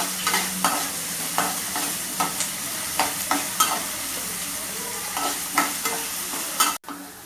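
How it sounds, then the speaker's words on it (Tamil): Onions sautéing toward golden brown for an anchovy fish curry give a constant sizzle and a regular beat of close spatula scrapes about every half second. "நல்லா வெங்காயம் பொன்னிறமாக வதங்கணும் வதங்கினது பிறகு நல்லா பொன்னிறமாக வரணும்"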